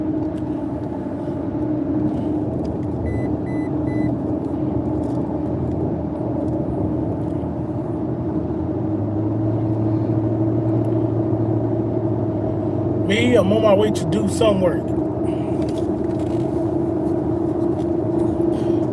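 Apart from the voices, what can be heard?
truck driving, engine rumble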